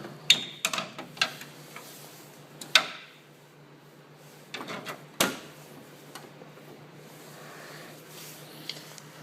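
The hood of a vintage Ski-Doo Elite snowmobile is unlatched and lifted, giving a few sharp close clicks and clunks, a louder knock near the middle, then quiet fiddling with faint small ticks.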